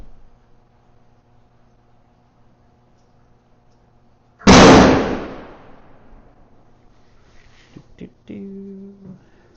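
A rifle fitted with a new barrel fires a single loud, sharp shot up close, and the echo decays over a couple of seconds. Quiet stretches come before it, and a voice follows afterward.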